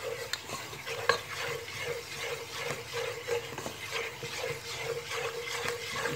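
Food frying in oil while being stirred and turned in a pan, a steady bubbling sizzle with soft scraping and utensil clicks throughout, no talking.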